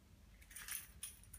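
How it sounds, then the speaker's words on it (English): Set of new car keys for a Honda CR-V jangling in bursts, a soft metallic clinking that swells twice and then trails off, fairly quiet and close with no talk. "I got my new car keys."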